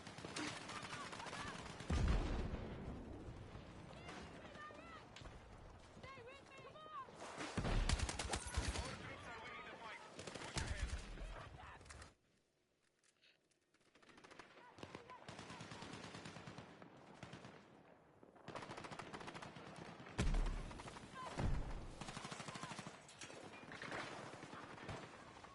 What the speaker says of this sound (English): I think they have a grenade launcher.